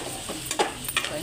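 Mutton curry cooks in a pan with a faint, continuous sizzle and a few soft stirring scrapes.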